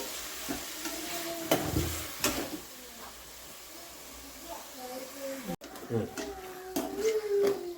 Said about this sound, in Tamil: இப்படி தக்காளி வணக்கணும் இந்த அளவுக்கு சுருளை வணக்கணும்